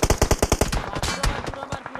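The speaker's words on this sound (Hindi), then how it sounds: "लेफ्ट से गोलियां पड़नी स्टार्ट हो गई" Bursts of rapid machine gun fire in a video game, a fast regular string of sharp loud shots up front followed by more scattered, overlapping gunfire, with faint talk underneath.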